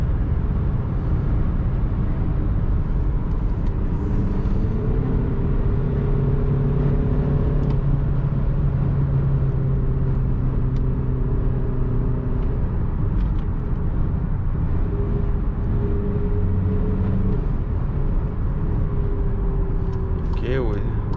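A Skoda Superb 2.0 TDI 190 HP 4x4 DSG accelerates to overtake on a highway: a steady, heavy engine and road drone with shifting tonal hums from inside the cabin, with voices talking at times.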